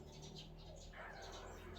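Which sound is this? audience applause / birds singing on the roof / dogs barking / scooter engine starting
birds singing on the roof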